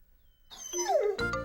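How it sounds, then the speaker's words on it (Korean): A cartoon dog barks excitedly while wagging its tail and hopping, a short rising whine breaking into a sharp yip, close and clear with no talking. "꼬리를 흔들고 팔짝팔짝 뛰며 짖었어요"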